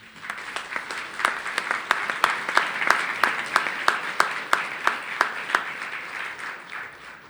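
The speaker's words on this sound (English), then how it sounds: "let's welcome Pete back with a round of applause, please" Audience applause at a college graduation ceremony in a hall, a dense sustained wash of clapping with one louder regular clapper standing out near the front, swelling and then tapering off toward the end.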